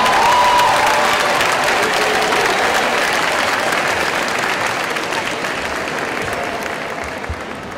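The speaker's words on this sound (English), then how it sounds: "Let's give that another round of applause" Loud, sustained crowd applause at a commencement ceremony, dense clapping that holds steady for several seconds and tapers slightly toward the end.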